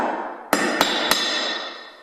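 Three sharp hammer taps land on a car's side door molding as it is knocked into place, evenly spaced and close, ringing briefly over a steady background hum.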